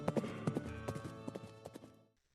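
Horse hooves clip-clopping in a steady walking rhythm, fairly close and clear, several distinct hoof strikes before fading out abruptly.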